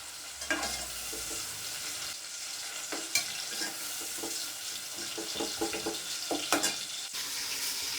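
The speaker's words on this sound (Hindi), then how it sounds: "अब हम इसमें 3 अदद टमाटर ऐड करेंगे। टमाटरों को हम सॉफ्ट कर लेंगे।" Tomatoes frying and being stirred in a pot for degi beef biryani, a steady sizzle broken by repeated scraping and clattering strokes of a spoon, close and moderately loud.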